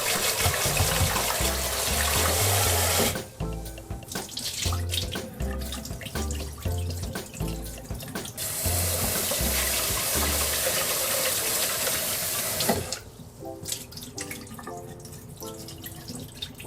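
Tap water runs steadily into a jar of rice being rinsed for a Cantonese meal, a loud continuous splash that shifts in pitch as the stream moves and the water fills, with brief dripping breaks and no voices.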